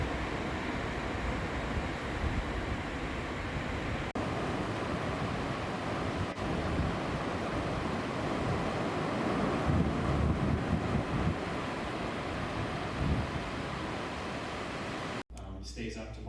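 Steady wind and surf rush on a beach in Veracruz, a dense continuous roar of breaking waves with wind buffeting the microphone, loud and unbroken until a brief drop near the end.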